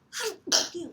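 A single short sneeze indoors during a class lecture, two quick bursts close to the microphone, moderately quiet against a silent room.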